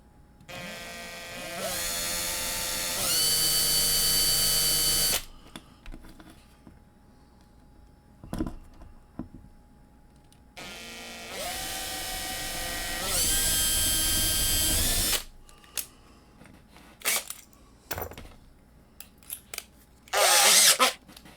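A drill bores out the rivets of a Hot Wheels Redline Custom '32 Ford Vicky die-cast toy car, with two long, high-pitched whirring bursts up close and scattered clicks and handling noises between them.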